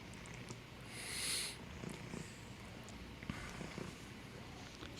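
A cat purring loudly and close up, a continuous rumbling purr that runs steadily throughout with faint room noise and no talking.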